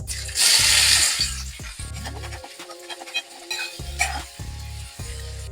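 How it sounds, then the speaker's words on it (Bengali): Chopped onions, four or five medium ones, dropped into hot oil in a pan for egg curry: a loud burst of sizzling followed by repeated scraping and clattering of a spatula stirring against the pan, with frying continuing underneath. "এবার পেঁয়াজ কুচানো গুলো দিয়ে দেবো।"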